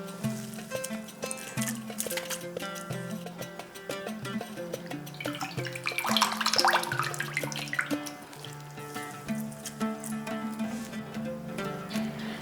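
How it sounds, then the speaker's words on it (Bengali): Boiled potatoes tipped into a strainer, with water draining through in a broad rushing burst midway, set under steady background music in a home kitchen. "সেখান থেকে আলুটাকে বেশ ভালো করে ছেঁকে নিচ্ছি"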